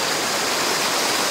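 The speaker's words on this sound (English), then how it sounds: "So there's a waterfall down there and then the river runs all the way down." Rushing waterfall and river running over rocks in a Thai jungle setting, a steady loud broadband roar of water filling the whole clip with no talking.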